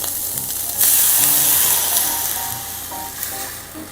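Ingredients for kasujiru, a sake-lees miso soup, lightly stir-fried in a pan, a loud close hiss and sizzle that swells when stirred and then slowly fades, with faint clinks.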